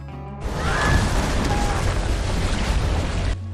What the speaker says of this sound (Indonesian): anak buah Montes mengejar dengan menyalakan mesin skocinya